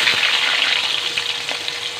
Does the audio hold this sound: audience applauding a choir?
no